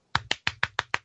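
Six sharp hand claps at a steady, quick tempo imitate the ticking lifters of a 1992 300ZX engine; close, crisp and alone, with silence between each clap.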